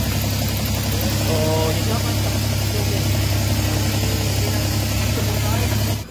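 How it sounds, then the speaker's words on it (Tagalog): A Suzuki K6A car engine idles roughly with its air conditioning running, a loud, close, steady low hum with rising and falling RPM, while someone talks briefly over it. "narinig nyo na sobrang ingay talaga ng makina"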